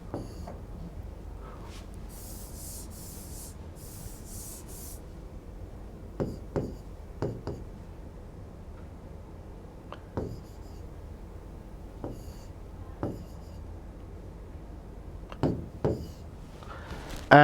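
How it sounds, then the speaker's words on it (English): Marker or chalk writing out a final mathematical expression on a board, a low continuous scratching broken by sharp taps and stroke accents at irregular intervals, close and fairly quiet with no talking. "I'm just writing the final expression"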